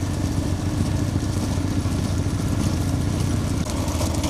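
A motorcycle engine rumbles steadily nearby at a bullock cart race in Pudukkottai district, a constant mid-pitched drone with slight clatter, no talking.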